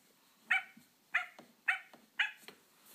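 Four short, sharp yips from a small toy dog, evenly spaced about half a second apart, close and fairly loud with no talking.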